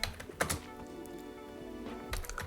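Computer keyboard keys are typed in a few quick clusters of close, crisp clicks, with a quiet pause between the first and last bursts.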